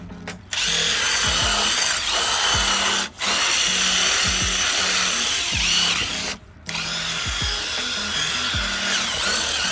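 Car detailing scrub with degreaser on the top surfaces: a loud, steady whirring scrub runs nearly the whole time, cutting out briefly twice before resuming, with no talking.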